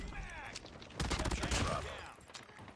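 HBR3 rifle fire on the Shipment 1944 map in Call of Duty, heard as rapid bursts of shots that build around the middle. Speech-like sounds mix in.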